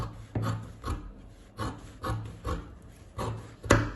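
Scissors cutting fabric for a dress sleeve, a series of close crisp snips and scrapes repeating roughly every half second, with no talking.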